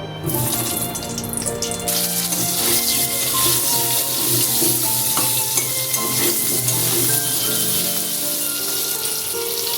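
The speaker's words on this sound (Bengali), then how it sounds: "পটল ভেজে তুলে রেখে ওই তেলের মধ্যে দিয়ে দিচ্ছি আলু।" Potato pieces fry in oil just used for pointed gourd, with a continuous close crackle and occasional stirring, set against faint background music.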